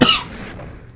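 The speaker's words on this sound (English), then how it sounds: "Why do I cough too much here?" A single sharp cough, loud and close, in Donkey Kong 64, trailing off quickly into quiet.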